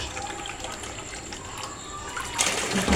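Water poured over okra being washed in a kitchen, a steady splashing gush that swells louder toward the end.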